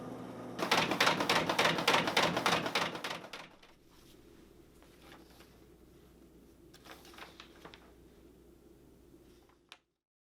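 A Formax FD346 document folder runs sheets through its rollers with a loud, fast, even mechanical chatter for about three seconds, then drops to a quieter hum broken by faint clicks and a final clunk.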